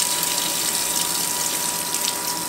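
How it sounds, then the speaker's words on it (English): Water runs steadily from a pot filler tap into a stock pot, a continuous hissing gush at close range with no pauses. "I'm going to start adding water."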